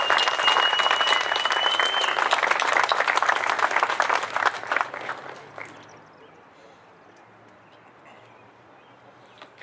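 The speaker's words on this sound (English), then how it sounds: "let's give a good round of applause for all our staff members" Applause for staff members at a 2020 high school commencement: a crowd clapping heavily for about five seconds, then fading quickly into quiet room tone.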